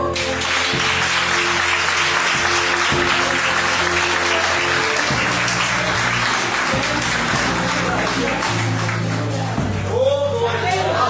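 A church congregation applauds during a worship service, dense sustained clapping from a crowd with music chords underneath, filling the room steadily throughout.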